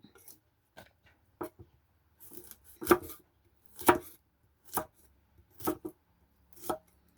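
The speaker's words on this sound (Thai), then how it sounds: "หั่นเป็นชิ้นน้อยๆแล้วก็ไปต้ม" Knife chops through limes on a board, about ten sharp thwacks in an uneven rhythm, close and clear with no talking.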